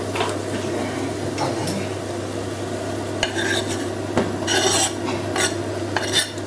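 Corn and onion fry in butter oil in a wok, a steady soft sizzle broken by several clinks and scrapes of a utensil stirring against the pan, close up with no voices.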